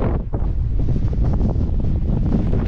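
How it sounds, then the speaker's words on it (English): Wind buffets the microphone on the Heaven's Gate triple chairlift at Sugarbush, a constant loud low rumble with gusty fluctuations and no voices. "Wind's kicking up again."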